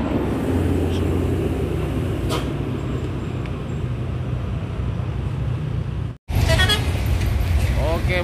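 Heavy trucks, among them an Isuzu Giga, grind uphill through busy traffic with a loud continuous engine roar, a horn toot, and a brief dropout before the rumble resumes.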